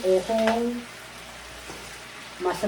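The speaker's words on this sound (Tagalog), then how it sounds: "May ginisa tayong mushroom" Mushrooms sautéing in a pan, a soft, steady sizzle heard between short bursts of speech at the start and end.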